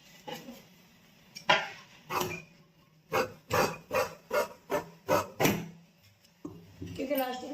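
Scissors cutting through a folded fabric strip for a child's summer shorts, a run of about eight crisp, evenly spaced snips close up, with a voice talking before and after.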